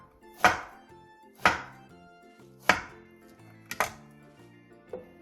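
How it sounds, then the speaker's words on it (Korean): A knife chops through sweet pumpkin (danhobak) on a board, five sharp separate cuts about a second apart, near and clear, with no voices. "단호박 한 주먹을 갈기 좋은 크기로 잘라주세요."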